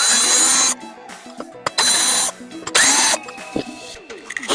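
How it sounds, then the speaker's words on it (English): A power drill with a T20 bit backs screws out of the cutting disc of a Husqvarna Automower robotic lawn mower, whirring loudly in three separate bursts with quiet handling and clicks between them. "we can then take the 3 screws that go from the cutting disc into the cutting motor using the same T20 and drill"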